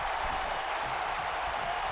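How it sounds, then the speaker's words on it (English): A WWE 2K wrestling video game arena crowd cheers and applauds steadily, a dense, continuous roar with no break, heard alone without commentary. "Crowd enjoying this one."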